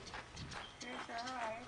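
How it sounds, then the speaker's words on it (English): A farm goat moves about, its hooves knocking on the ground in light, uneven clip-clop steps, close by and partly under people talking. "Old Cutie, the goat."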